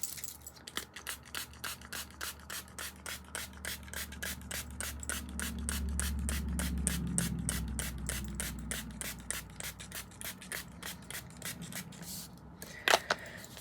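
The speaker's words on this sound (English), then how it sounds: "I am going to go in now with my Milani Make It Last setting spray," Milani Make It Last setting spray is pumped repeatedly in a fast, even series of short hissing spritzes close to the microphone, followed by a brief clatter near the end.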